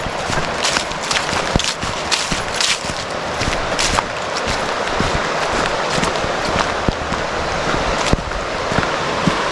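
Water flows steadily at an outdoor spot in Pennsylvania during fall, a continuous broadband rush with scattered splashes and clicks, fairly close and unbroken throughout, with no talking.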